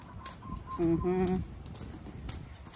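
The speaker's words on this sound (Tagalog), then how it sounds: "That bird, I hear it only from the province. It says kukurukuk, kukurukuk." A rooster crows once in an outdoor rural setting in Thailand, its harmonic call rising and holding briefly at moderate distance, with background ambience and faint activity around it.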